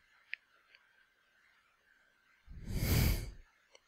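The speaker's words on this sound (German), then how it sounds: "man kann mich atmen hören" A single heavy breath gusts close into a gaming headset microphone, a loud rush of air lasting about a second, framed by a few faint clicks.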